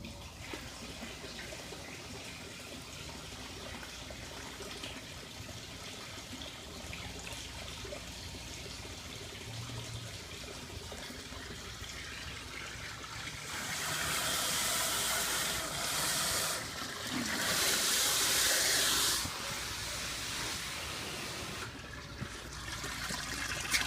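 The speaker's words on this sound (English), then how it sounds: "the water drains down, and it's steadily draining" Water drains steadily through a bell siphon with a soft trickling hiss, swelling into a louder gurgling rush partway through, heard close.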